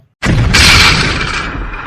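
A Diwali firecracker goes off with a sudden loud bang, then a brief crackling fizz that fades out.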